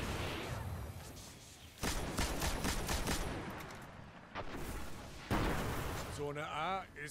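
A heavy machine gun fires in Destiny's Crucible PvP, loud sustained bursts of rapid shots broken by short pauses, with a voice speaking over the gunfire.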